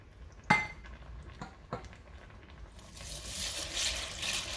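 Macaroni shells being stirred in a pot for Velveeta cheeseburger mac and cheese, with a few sharp clinks of a utensil against the pot early on, then a soft, steady watery swishing and bubbling toward the end.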